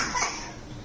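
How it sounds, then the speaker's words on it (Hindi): A single short cough, fairly close, followed by quiet room noise. "खांसी हो रही है ना"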